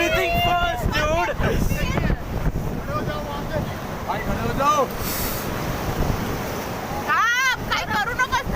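River rapids on a rafting trip in Kullu, Manali, Himachal Pradesh rush and splash constantly under heavy wind buffeting on the microphone, with excited shouting voices breaking through several times.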